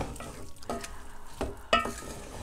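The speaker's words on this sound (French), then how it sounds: "je laisse mon poisson cuire légèrement" Fish sizzling lightly in a pan for an okra sauce, a soft continuous crackle broken by a few brief louder stirring or scraping bursts, close and fairly quiet.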